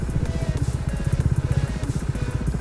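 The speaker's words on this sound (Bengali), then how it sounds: "এই হচ্ছে ইঞ্জিন ব্রেক" A motorcycle slows on engine braking, its engine giving a close, loud, low-pitched rapid pulsing that throbs steadily with the throttle closed, and no voices over it.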